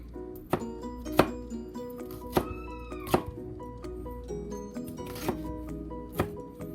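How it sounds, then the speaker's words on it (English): Sharp, regular knife chops on a cutting board as a pepper is diced into small pieces, about nine distinct thunks at an even, unhurried pace, close and clear. "Now we will cut it to small pieces."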